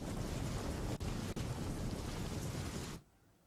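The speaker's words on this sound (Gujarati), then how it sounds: "વરસાદ વરસી રહ્યો છે" Dense, steady roar of heavy monsoon rain pouring down in Rajkot, Gujarat, loud and continuous, cutting off abruptly near the end into quiet.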